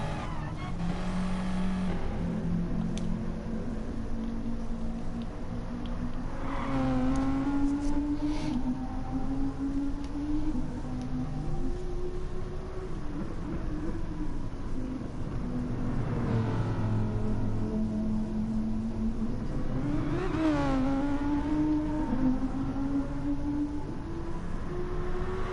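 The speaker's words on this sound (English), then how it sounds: "There it is with that V10." A V10 race car engine in a racing video game howls and revs through repeated upshifts and lifts, rising and falling in pitch as it loads up, steady and loud throughout with no talk.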